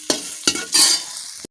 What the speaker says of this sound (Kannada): ಕರಿಬೇವಿನ ಎಲೆಗಳನ್ನೆಲ್ಲ ಚೆನ್ನಾಗಿ ಎಣ್ಣೆಯಲ್ಲಿ ರೋಸ್ಟ್ ಮಾಡಿ